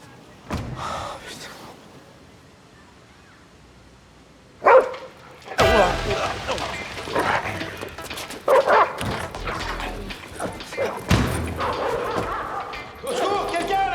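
A dog barks and yips in a few sharp bursts amid commotion, with a door slam and people shouting and talking over it, loud and close at times.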